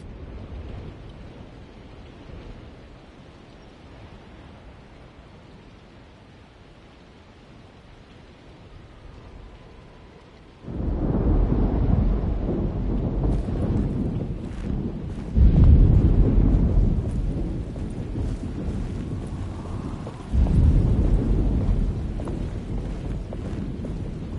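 Alone in the Dark game thunderstorm: a low wind-blown rumble builds, then heavy thunder rolls break in three surges, loud and close, with steady storm noise between and no voices.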